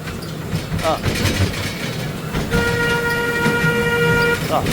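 A train horn sounds one steady, sustained tone for about two seconds over a noisy outdoor background.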